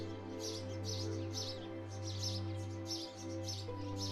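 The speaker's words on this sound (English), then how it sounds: "House sparrows are perhaps the world's most familiar birds." House sparrows chirp in quick repeated bursts over a steady low electrical hum, the bird calls light and rhythmic throughout.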